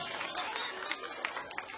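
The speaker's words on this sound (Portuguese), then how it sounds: "As palmas de Jasmine, por favor." A crowd at a Brazilian stage contest applauds Jasmine, steady clapping close and busy with scattered sharp claps throughout.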